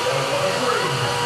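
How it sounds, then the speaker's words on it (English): A steady, loud hiss of escaping steam from an aircraft catapult steam accumulator aboard the carrier USS Coral Sea roars continuously at close range, broad and unbroken throughout. "That is a CAT steam accumulator."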